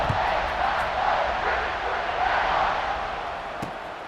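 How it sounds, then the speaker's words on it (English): A stadium crowd in a college football video game keeps up a steady, dense roar and buzz, swelling slightly midway and easing toward the end, with a brief sharp knock near the close. "this crowd is buzzing after that last score"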